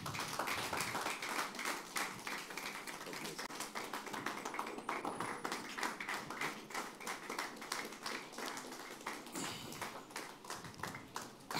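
Audience at a conference clapping steadily, a dense, even run of many hands that continues without a break for the whole stretch at moderate volume.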